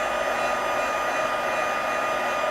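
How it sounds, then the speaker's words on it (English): A handheld embossing heat tool blows hot air in a steady, close whooshing roar with a faint high whine, unbroken throughout with no talking. "once your heat tool is heated up, it goes faster too if you're doing a bunch of these at the same time"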